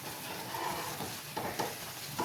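Ragi flour being stirred as it cooks in a pot, soft scraping strokes over a low bubbling hiss, close and fairly quiet.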